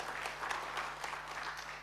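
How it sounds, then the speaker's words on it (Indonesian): A church congregation applauds during a sermon, giving a steady, dense burst of clapping that fills the whole stretch at a fairly even loudness, with no clear speech over it. "Beri tepuk tangan yang terbaik buat Tuhan Yesus."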